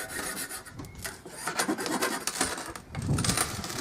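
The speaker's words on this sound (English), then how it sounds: "And then I'll go over it with some sandpaper." Hand sanding of a welded metal trailer hitch part for a mono-wheel trailer with sandpaper, uneven rasping rubs in short strokes, close and fairly loud with no talking.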